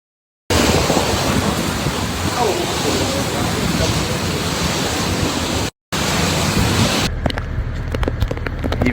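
Heavy rain pours down in a loud, steady hiss with a brief cutout, then fades to lighter dripping and patter at the end.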